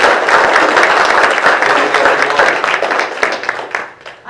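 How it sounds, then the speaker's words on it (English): An indoor audience at a state representatives' gathering breaks into loud, dense applause that holds steady before thinning and tapering off toward the end. "And yes, I do believe that deserves a round of applause."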